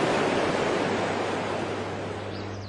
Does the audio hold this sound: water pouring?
yes